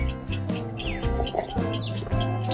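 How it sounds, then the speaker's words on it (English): Birds chirp and tweet in quick overlapping calls over a steady low hum, bright and close throughout. "Wake up, the birds are like tweeting"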